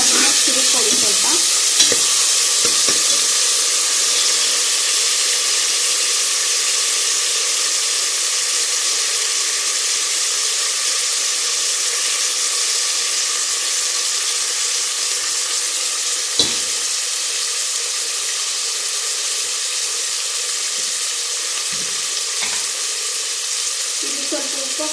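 Chopped tomato sizzles steadily in a hot pan for drumstick sambar, a loud, continuous frying hiss with occasional scrapes of stirring and no break throughout.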